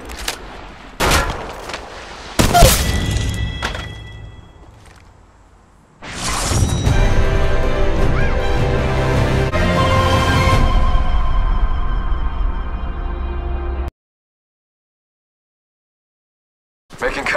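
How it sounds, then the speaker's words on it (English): Gunfire in the Apex Legends video game: a few sharp shots and bursts, then a sustained loud stretch of rapid firing with ringing effects that stops abruptly, followed by silence and a final burst. "Opening fire on the enemy."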